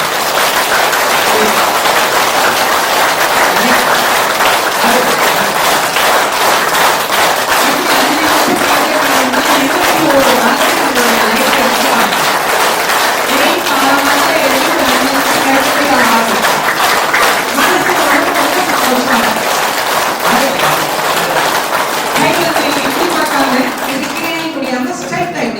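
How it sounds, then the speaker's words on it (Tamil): A group clapping hands together in a fast, even rhythm as part of a heart-centered wellness exercise, loud and continuous for a long stretch, with a voice speaking over the clapping. "இப்படி வச்சுட்டு இப்படி கைத்தட்டணும்"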